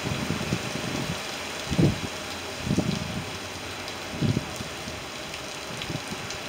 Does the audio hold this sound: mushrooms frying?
no